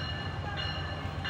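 A train runs through Stamford station with a steady low rumble and a sustained tonal hum of rolling cars, close and continuous with no talk.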